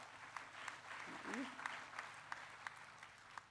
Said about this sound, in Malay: Kita bagi tepukan gemuruh kepada Infra.